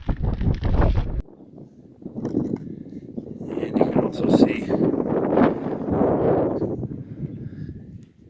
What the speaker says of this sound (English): Strong gusts of wind up here.